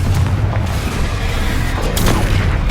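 Confringo explosive spell in Hogwarts Legacy, a dense rumbling blast with booming impacts and a sharp crack near the end, loud and close amid constant combat noise.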